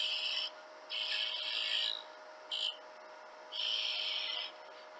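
A parting tool cuts a small wooden handle, about a quarter inch thick, on a lathe, producing hissing, scraping bursts of varying length over a steady motor hum.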